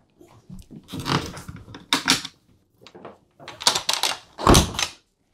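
A sequence of clunks and scraping knocks, a heavy door on a Seawind 1260 catamaran being pulled and shut with several bangs and rattles, close by.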